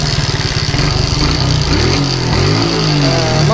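A motorcycle engine running on battery-only ignition idles and revs loudly and close by, with a pulsing low chug that climbs in pitch as the throttle opens, steady throughout.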